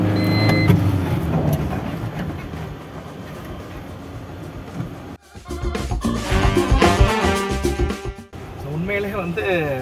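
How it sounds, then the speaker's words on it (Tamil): A loaded Tata Intra V50 pickup truck drives along with a steady engine and road rumble, then brakes suddenly, its tone shifting and rising toward the end, with someone talking over it. "ஸோ நம்ம போயிட்டு பிரேக் அப்ளை பண்ணுவோம்."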